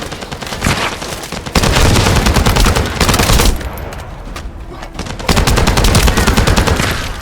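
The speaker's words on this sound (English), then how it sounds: "That stopped the gunfire." Bursts of rapid automatic gunfire in the shooter game The First Descendant, loud, dense volleys cut by short pauses and an abrupt quieter lull in the middle, with no talk over them.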